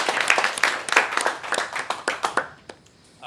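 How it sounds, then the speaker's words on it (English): A small audience claps for the speaker after a tech talk, distinct individual claps thinning out and stopping within about three seconds. "let's have another round of applause for our speaker"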